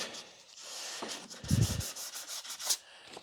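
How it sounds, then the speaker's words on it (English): Hand sanding on wood: rhythmic scratchy rubbing strokes, close up, with a few heavier passes and no talking. "don't be afraid to get the sandpaper out"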